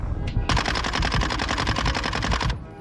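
A Bizon submachine gun in Call of Duty: Modern Warfare 2 fires one long, rapid, loud automatic burst of about two seconds. The shots come in an even, tightly spaced rhythm and end abruptly, with no talk over them.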